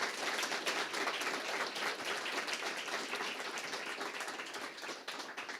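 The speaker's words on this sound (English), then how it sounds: "one more time, round of applause for all of the contestants who came this evening" An audience at an evening songwriters competition applauds the contestants, a dense, even wash of many hands clapping that holds steady throughout and eases slightly near the end, with no voices over it.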